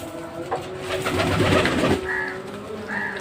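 Pigeons cooing in a low, rolling burble that swells through the middle, with a steady hum and a few higher chirps in the background; at a home pigeon loft.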